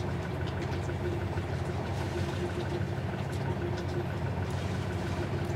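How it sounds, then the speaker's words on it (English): A sailboat's engine runs at a steady idle while moored in the Caribbean, charging the battery; a continuous low, even drone with a faint knocking texture, no one speaking. "we'll let the engine run for probably another 20 minutes or so"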